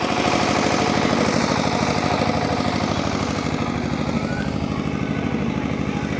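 A fishing boat engine running steadily at Bet Dwarka island among moored fishing boats, a loud, continuous pulsing mechanical chug throughout.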